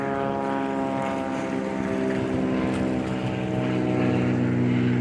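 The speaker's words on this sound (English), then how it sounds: "See the airplane there?" A propeller airplane flies overhead near a damaged boardwalk, its steady droning engine hum loud and continuous throughout, with no voices.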